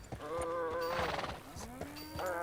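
Horse in the video game Red Dead Redemption 2, close and moderately loud, with hoof clops and a neigh-like whinny, alongside game sounds.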